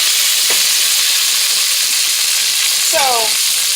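Ginger sizzles and hisses steadily in a hot pan while a coconut curry with chickpeas is cooked. A short voice sound breaks in near the end.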